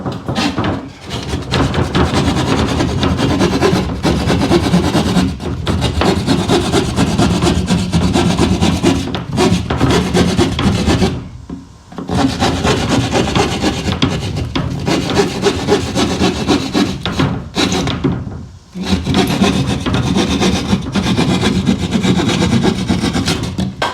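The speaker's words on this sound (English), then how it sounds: "And then you get your sheetrock saw right here." A handheld sheetrock saw cuts a circle in sheetrock during a room addition, loud close rasping strokes in steady rhythm, with two brief pauses midway.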